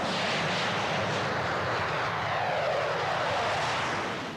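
Military test aircraft flying at Boscombe Down, with a loud, continuous broadband engine roar and rushing air that holds steady and swells slightly throughout, with no voices.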